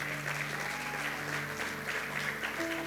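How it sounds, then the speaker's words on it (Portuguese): A church congregation applauds during a worship service, giving steady, continuous clapping that fills the room at moderate volume from start to finish. "Você pode dar um aplauso ao Senhor?"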